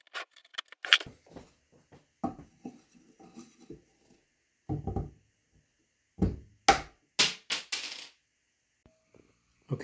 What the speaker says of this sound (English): we're going to take a block of wood and a mallet and just gently tap